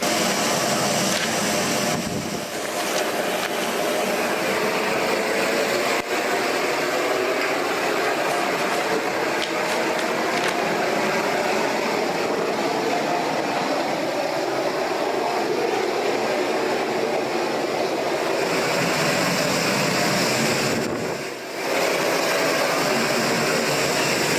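A constant, heavy roar of howling hurricane wind fills the air without letup, broad and droning like a jet, with only brief dips.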